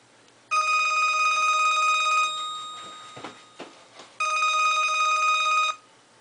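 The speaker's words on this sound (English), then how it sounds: "He hears the home phone ringing, but thinks it is his cell phone." A home telephone rings in two loud, bright electronic bursts of about two seconds each, separated by a pause with faint rustling, close by and with no talking.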